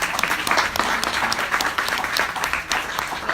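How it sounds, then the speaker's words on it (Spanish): Audience applause at a marketing talk in Oaxaca, a dense, steady wash of many hands clapping close by, sustained and even for several seconds with no voices rising above it. "Otro aplauso, por favor, para ella."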